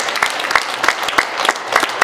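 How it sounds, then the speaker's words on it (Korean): Audience applause at a year-end concert of Korean art songs: steady, dense clapping from a crowd in a hall, loud and continuous with no talking. "그런 의미에서 박수 한번 쳐주세요."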